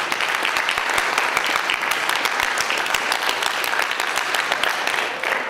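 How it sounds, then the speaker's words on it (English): A room full of people at a student forum applauds a staff team, thick sustained clapping at fairly loud level from start to finish, evenly dense with no pauses. "We'll give you a round of applause."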